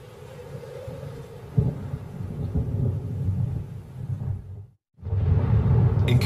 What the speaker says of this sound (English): In Katavi, October brings the short rains.